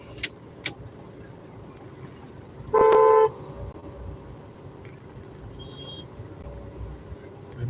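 Night traffic in Trivandrum, with one loud, steady car horn blast lasting about half a second midway over low engine and road noise, plus a faint short beep afterward.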